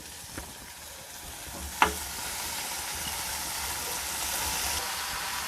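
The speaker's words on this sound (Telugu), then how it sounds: "నెక్స్ట్ ఈ చికెన్ ఇందులో వేసేయాలి" Country chicken drops into a hot pan of tomato pieces with a brief thud, then a loud, steady sizzle of frying fills the rest, close and continuous with no talk.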